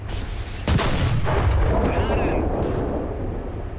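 A tank cannon fires once in the War Thunder video game: a sudden loud blast that rolls into a long rumbling tail, with a voice faintly present around it.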